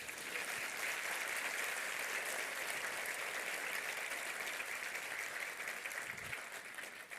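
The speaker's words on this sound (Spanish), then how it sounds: "Aplausos." An audience at a national census results presentation in Ecuador claps steadily, dense applause sustained throughout and easing slightly at the end.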